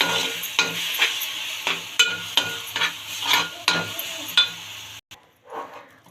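A raw mango sweet is mixed with chili powder and a little oil in a pan. About nine rhythmic scraping stirs sound up close, then it goes mostly quiet.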